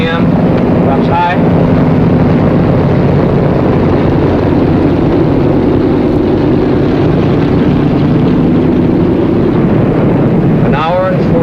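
Aircraft engines winding down after landing: a loud, continuous close-up drone that fills the whole stretch, with brief chirping sounds near the start and end.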